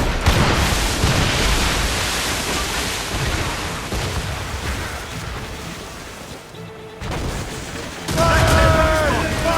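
Ship cannon volley in the naval combat video game Assassin's Creed Rogue, a dense continuous roar of gunfire and crashing sea noise that dips briefly, then surges back loud.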